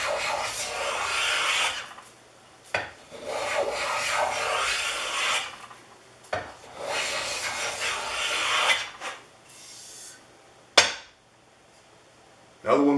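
A century-old Stanley No. 140 skewed-blade rabbet plane shaves wood in several long rasping strokes, each ending with a short knock, close and clear with brief pauses in between.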